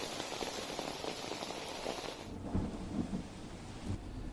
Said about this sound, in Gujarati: કચ્છના રાપરમાં પવન સાથે કમોસમી વરસાદ વરસ્યો।